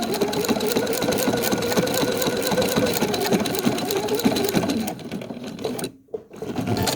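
A sewing machine stitches steadily along a quilt corner, its rapid needle rhythm close and continuous before slowing, pausing briefly, then whirring again.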